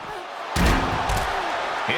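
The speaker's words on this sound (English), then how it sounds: "Interesting choice to close the ambulance doors." Ambulance doors slammed shut in the WWE 2K24 wrestling video game, one loud, heavy metallic bang followed by a reverberant rumble, with crowd noise and talk underneath.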